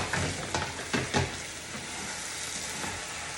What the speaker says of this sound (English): I'm gonna cover the potatoes with the lid.